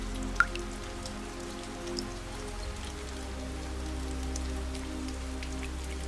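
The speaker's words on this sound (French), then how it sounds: "la pluie continue de tomber" Steady rain falls outdoors with scattered drips, soft and continuous over a low steady hum, with no voices.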